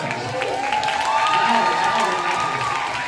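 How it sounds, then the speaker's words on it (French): A concert-hall audience at an opening ceremony cheering and applauding together, a steady wash of claps and shouts. "So let's make a big cheer for you guys."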